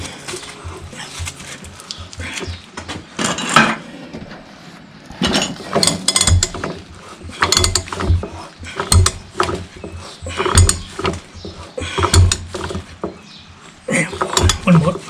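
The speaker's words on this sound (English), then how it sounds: "tighten it with a big bar at the other side." A big bar tightens a nut on the front axle of a 1955 Fordson Diesel Major tractor. Heavy, uneven bursts of ratcheting and metallic clanking repeat in strokes over fifteen seconds, loud and close.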